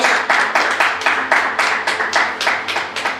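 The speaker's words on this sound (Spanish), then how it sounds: "Le damos un aplauso al Señor Jesucristo" Congregation clapping in church during a Spanish-language sermon, a steady rhythmic beat of about three claps per second, loud and close, with no talk over it.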